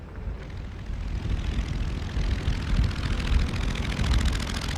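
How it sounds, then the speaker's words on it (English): A 1909 Wright Military Flyer, an early propeller biplane built for the U.S. Army Signal Corps trials, drones with a rough, continuous engine and propeller roar that builds slightly and holds steady, alone without voices. "Orville Wright completed the task he'd begun in 1908, satisfying the U.S. Army Signal Corps' requirements for a military aircraft"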